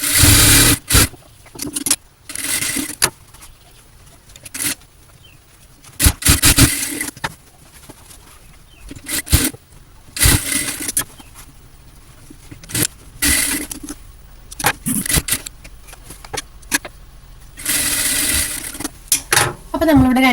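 Sewing machine stitching a hook piece onto fabric, running in repeated short bursts with pauses between them, fairly close and loud, without talk.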